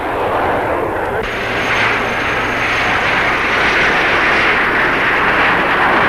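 English Electric Lightning and Hawker Hunter jets fly in formation at a 1962 air display, a loud, sustained roar of jet engines that holds steady and swells throughout.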